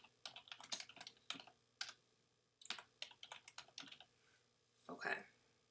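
Quick bursts of computer keyboard typing, close and crisp, coming in rapid clusters with short pauses between them, ending with a softer brushing sound, no voice present.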